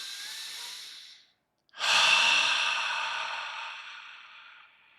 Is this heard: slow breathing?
yes